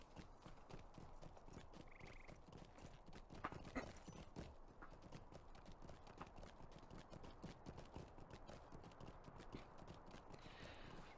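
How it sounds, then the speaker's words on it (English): Horse hooves clip-clop at a steady trot in the online game Lord of the Rings Online. The rapid, even footfalls run unbroken and fairly loud, mixed with soft game ambience, and no one speaks over them. "let's get on a horse"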